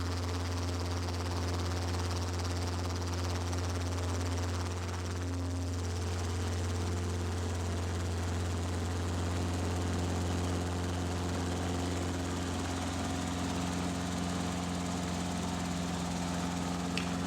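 Robinson R22 helicopter lifting off near San Diego, heard from inside as a steady loud engine drone with a constant low rotor hum throughout, unbroken and close, no talking.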